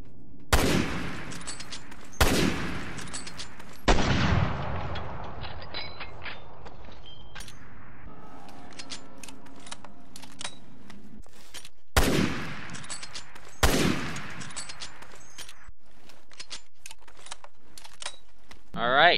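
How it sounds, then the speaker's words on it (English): Shots from an M1891/30 bolt-action sniper rifle in the video game Resident Evil Revelations 2: loud, sharp reports spaced a couple of seconds apart, each followed by the bolt cycling and decaying echoes. "M1891/30. Single-shot sniper rifle."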